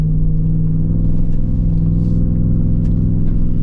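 A Jeep Wrangler 392 V8 engine in four-wheel drive low labors up a steep, rocky off-road incline, a loud, steady, deep rumble that holds constant throughout with no talking.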